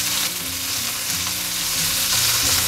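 A cup of green chillies sizzles and fries steadily in a hot pan for Maharashtrian thecha, a continuous close hiss with faint stirring scrapes and no voices.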